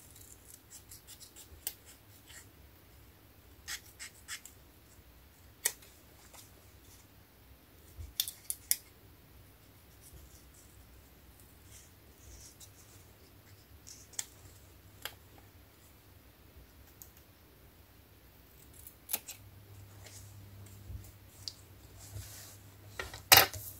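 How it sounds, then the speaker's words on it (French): Scissors snip paper cardstock in scattered, crisp bursts while a card is cut out closely around its edge for a craft project, with quiet handling and rustling between the cuts. "je vais le couper vraiment au ras-bord."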